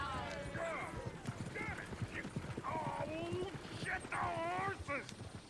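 Horse hooves clip-clop along a town street in the video game Red Dead Redemption 2, a steady trotting rhythm mixed with a whinny and a distant dog, while characters talk over it.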